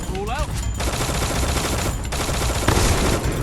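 Continuous rapid gunfire in a shooter video game with a dragon airdrop mode, loud and close. A whistling effect sounds at the start, and the firing carries on steadily with small bursts throughout.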